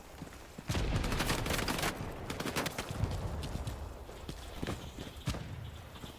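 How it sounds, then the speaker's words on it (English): Machine guns in the Vietnam-era shooter Hell Let Loose Vietnam chatter in rapid bursts, a loud dense volley at first, then scattered shots and distant rattling continuing underneath. "Got some MGs set up. That thing's loud."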